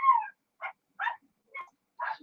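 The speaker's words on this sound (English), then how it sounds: "She's barking at somebody." A pet dog barks in short, separate yips and woofs indoors, about five barks spaced roughly half a second apart, fairly close and alone with no talking over them.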